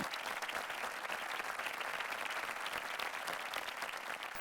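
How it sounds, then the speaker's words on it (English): Steady audience applause fills an award ceremony honoring a real estate company, a continuous wash of many hands clapping at moderate distance, with no voices over it. "Ladies and gentlemen, a big round of applause for the Real Estate Company of the Year, Rudra Amar Group."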